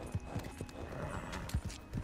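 Horse hooves in Red Dead Redemption 2 clopping in a steady, close rhythm, each hit thudding low and clear over a soft outdoor ambience.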